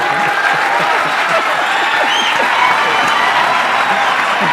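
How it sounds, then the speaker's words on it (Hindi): A studio audience at a talk show claps loudly and steadily, a dense, continuous wash of applause filling the room from start to finish, with a faint murmur of voices. "जो अभी तालियां बजा रहे थे"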